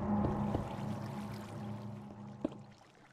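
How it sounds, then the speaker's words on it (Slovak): Water pours in a steady, moderately quiet stream for a few seconds, then tapers toward the end, broken by a single sharp knock partway through. "Musím si tú vodu nejako zastaviť"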